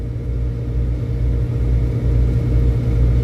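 A car engine rumbles steadily and loudly from close by as the driver guns it on the road, a deep continuous drone that swells slightly toward the end with no talking.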